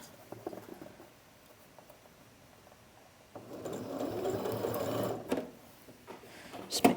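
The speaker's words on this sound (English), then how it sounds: "Just make sure I'm sewing over my shoulder seam correctly" Home sewing machine stitching across a garment's shoulder seam, a quiet rapid patter that starts soft and then becomes a louder steady run after a few seconds, with brief stops and handling noises.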